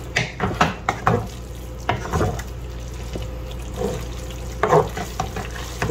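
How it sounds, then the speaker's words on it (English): A spoon stirring boiled spaghetti in a pan, with wet sloshing, scraping strokes and soft clinks coming in short bursts up close. "now I'm gonna take my spoon and just stir that in"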